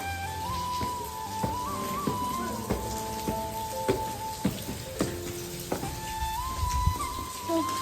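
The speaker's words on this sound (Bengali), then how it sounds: "বাইরে বৃষ্টি পড়ছে" Rain falls outside a Bengali home, a soft steady patter with scattered drips tapping on surfaces, heard indoors at a distance with a faint tonal hum running underneath.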